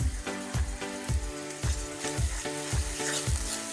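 Chicken with garlic paste, ginger paste, chili powder, turmeric and salt sizzles while it sautés, with rhythmic scraping stirs repeating about twice a second over a continuous frying hiss.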